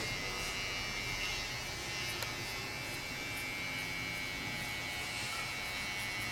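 Electric hair clippers fitted with a 0.5 guard cut hair during a women's low fade, giving a steady, close buzzing whine that holds evenly from start to finish with no talking.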